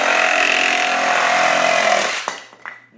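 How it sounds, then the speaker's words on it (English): A Ridgid X4 18V cordless reciprocating saw in orbital mode cuts through a 2x4. It gives a loud, steady buzzing rasp for about two seconds, then winds down and stops, followed by a few small clatters. "First cut we're gonna make through a 2x4 is in reciprocating mode, or orbital mode."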